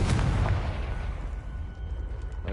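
A Confringo fire spell blasts in Hogwarts Legacy as a loud, booming explosion right at the start that rumbles on and slowly fades over a couple of seconds.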